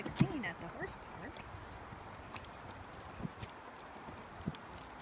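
Horse hooves clip-clop at a steady walking rhythm on an obstacle course trail ride at a horse park, fairly close, with light wind noise on the microphone.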